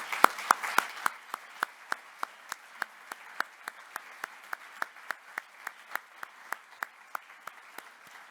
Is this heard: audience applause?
yes